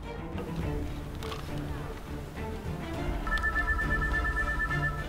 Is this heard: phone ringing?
yes